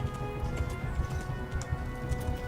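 Horse hooves clop in Kingdom Come Deliverance II: a steady, rhythmic run of hoofbeats carries on throughout at an even loudness over a low in-game rumble.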